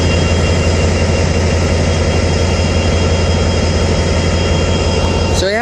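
Several freight train locomotives, Canadian Pacific or Union Pacific, idle nearby with a loud, steady low diesel drone and constant broadband rumble throughout, with no talk.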